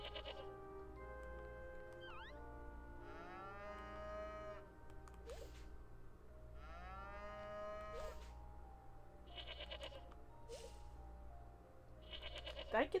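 Cartoonish cattle moos from the farming video game Harvest Moon: One World, repeated calls with rising and falling pitch over a steady game music bed, joined by other bleating farm animals.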